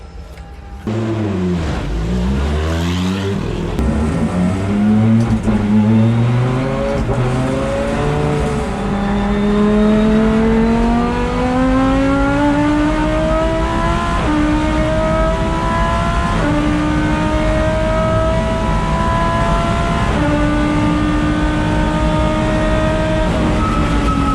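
A Lamborghini Gallardo race car driving a lap of a circuit, its engine loud and close throughout, climbing through the revs and pulling through repeated upshifts, with brief tyre noise.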